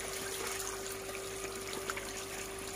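Tap water runs and trickles steadily while fish are rinsed and washed, a soft continuous flow with a constant hum underneath and no voices.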